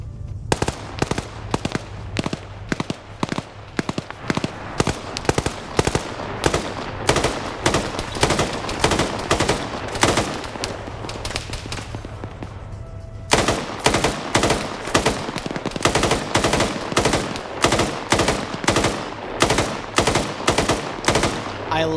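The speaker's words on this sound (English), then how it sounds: "I love the machine gun bursting fun he's doing" Machine gun burst fire during a video game PvP match: loud, close, evenly spaced short bursts repeating steadily for the whole stretch, with a brief lull near the middle before firing resumes.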